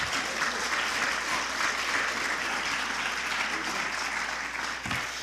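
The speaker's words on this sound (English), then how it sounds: "Let's give him a round of applause" Steady applause from an audience at a documentary film screening in Newark, a dense wash of clapping that fills the whole stretch at even loudness with no voices standing out.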